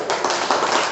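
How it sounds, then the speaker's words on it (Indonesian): A brief burst of audience clapping in a hall during a lecture, several hands striking together for under a second. "Tepuk tangan untuk Pak Ajun"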